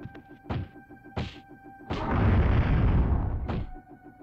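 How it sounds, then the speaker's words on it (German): In The Fifth Element video game, a grenade is thrown amid a few dull thunks, then a rumbling blast swells for over a second before another thump, all loud and close. "Ich werfe jetzt einfach mal die Granate."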